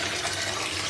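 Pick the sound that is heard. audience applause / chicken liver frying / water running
water running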